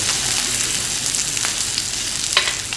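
Meat grills with a steady, close sizzle and crackle, occasional sharp pops and spits cutting through the continuous hiss, with no voices.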